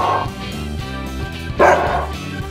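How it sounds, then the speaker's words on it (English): A dog barks in a couple of bursts over a steady musical backing, the louder bark landing near the middle of the short stretch. "Dog."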